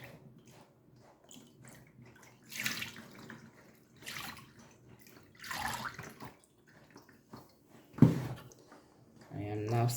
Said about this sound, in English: I am now sieving.